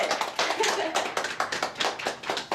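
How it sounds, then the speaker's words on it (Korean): A small audience at an academy presentation on women and exercise claps, producing fairly close, distinct hand claps in a loose, uneven rhythm over a couple of seconds. "박수!"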